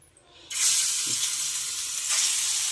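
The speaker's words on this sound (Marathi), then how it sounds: "चला आता फ्राय करायला सुरुवात करू" Chicken pieces drop into very hot oil for a Sunday chicken fry, bursting into a loud, sustained hiss that swells again near the end as more pieces go in; no talking.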